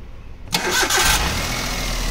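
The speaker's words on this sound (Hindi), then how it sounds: "गाड़ी स्टार्ट कर।" A car engine cranks briefly and catches, then settles into a steady idle; close and fairly loud, with no talking.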